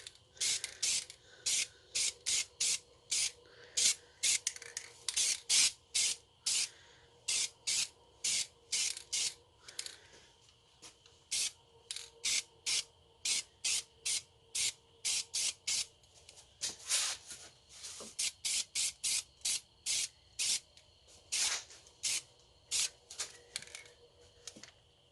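A spray can lays coats of paint on an 1987 Chevrolet Celebrity Eurosport in many short, close, hissing bursts. The rapid sprays come in quick clusters with brief pauses between them.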